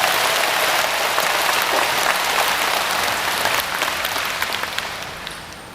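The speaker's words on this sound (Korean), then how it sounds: "다시 한번 큰 박수로 더 알려주시기 바랍니다" Sustained applause from a large audience at a Korean Catholic charismatic renewal national convention, dense steady clapping filling the hall, loud and continuous before gradually thinning toward the end.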